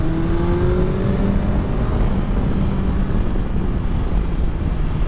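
A 2024 BMW S 1000 XR motorcycle rides twisty roads, its engine giving a loud, steady drone with a rising whine and heavy wind rush throughout, heard up close without any talking.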